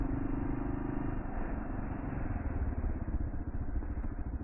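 A Kawasaki KLR650 dual sport motorcycle rides along a forest trail in Sam Houston National Forest, its single-cylinder engine a steady rumbling drone with constant clatter and wind, heard from on board throughout.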